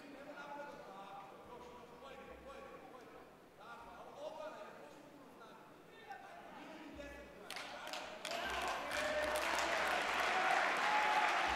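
Crowd at an SBC 37 MMA fight between Predrag Bogdanović and Aman Abdraymov, a murmur that swells into loud applause and cheering in the last few seconds, under a commentator talking continuously.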